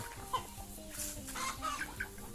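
Chickens clucking on a small integrated family farm where frogs and poultry are raised, a quiet, steady background of soft clucks and occasional calls with faint ambient noise, no talking.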